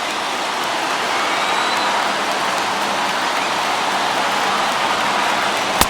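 A packed MLB The Show 21 baseball stadium crowd of over 39,000 roars in a dense, loud, steady wash of cheering that fills the whole stretch, with no voices picked out.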